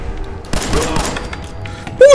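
Gunfire emptying a weapon in Fallout 4, a sustained loud burst of rapid shots with thumping impacts lasting about a second and a half, followed by a sharper louder hit at the end.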